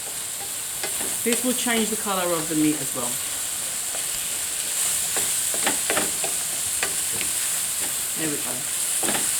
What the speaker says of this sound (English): Now I'm going to go in and I'm going to give it a nice stir